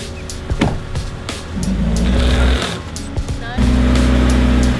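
A Toyota Yaris stuck in soft sand at a desert village revs its engine hard in two long surges to pull free, with a brief lull between them.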